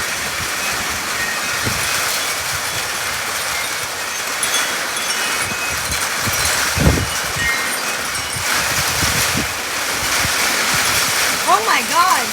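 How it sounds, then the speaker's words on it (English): Heavy rain pours steadily during a Phoenix, Arizona monsoon storm, a broad continuous wash with occasional brief louder bursts, recorded close and without pause. "Oh my God, it is pouring."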